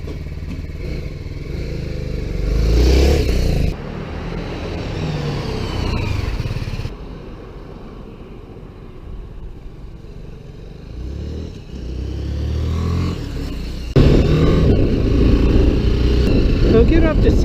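A BMW G310GS motorcycle accelerates on the road with a steady engine drone rising in pitch, recorded close with wind rush, and the rider's voice appears intermittently over it.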